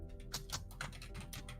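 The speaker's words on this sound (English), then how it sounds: "casual is probably faster typing while I think she's typing" Quick typing on a computer keyboard, a close run of light clicky keystrokes in an uneven rhythm, quiet and alone.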